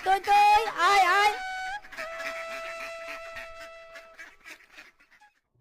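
Ducks quacking outdoors, a loud burst of several nasal quacks at first, then fainter scattered calls fading toward the end.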